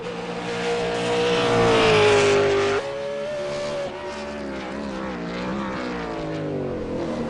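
A V8 Supercar lapping Sonoma Raceway at speed, its engine roaring loud and close with rising and falling revs as it shifts gears and slows for corners, continuous throughout.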